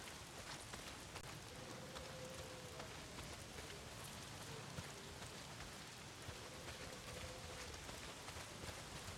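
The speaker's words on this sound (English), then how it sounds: "Not if it's pissing down rain" Steady rain pours down in the video game Days Gone, a dense, even wash of hiss that fills the whole stretch at a moderate level. A faint tonal hum sits low under the downpour, and nobody speaks.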